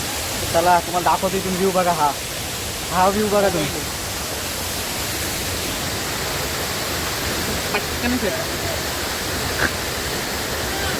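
A waterfall roars as a broad, constant rush of pressured water close by, loud throughout, while voices talk over it early on and briefly again later.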